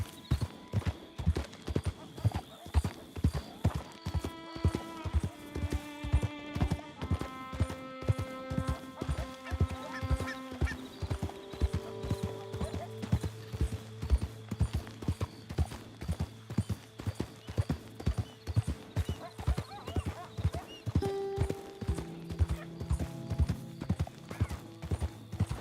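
Horse hooves clip-clop at an even, steady gait during a ride in Red Dead Redemption 2, close and clear over light background music, with no talk.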